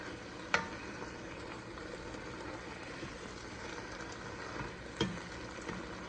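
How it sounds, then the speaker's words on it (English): Chopped leeks stirred in a pot for potato leek soup, a soft continuous sizzle with two sharper clinks of a spoon against the pot, no speech. "once you add the leeks, you're going to give it again another stir"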